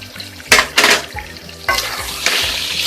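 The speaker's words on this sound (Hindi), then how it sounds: "मिक्स कर देंगे सब्ज़ी को अच्छी तरह।" Aloo baingan sabzi gets stirred in a pan, with scraping spoon strokes and bursts of sizzling in a short sequence close by.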